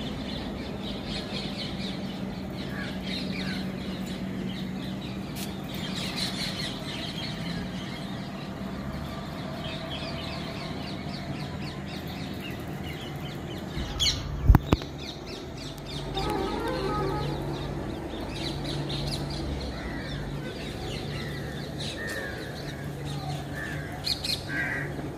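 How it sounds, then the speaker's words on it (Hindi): Parrots squawk and call intermittently around a home, harsh chattering cries scattered over steady background noise with a couple of sharp knocks midway. "कितने प्यारे प्यारे तोते हैं। और ये सारे तोते इधर से उधर नाचते रहेंगे।"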